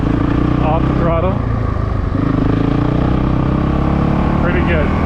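A 2022 Honda CRF 450RL motorcycle engine running steadily up close, with a loud, even drone and short throttle blips, while a person talks over it.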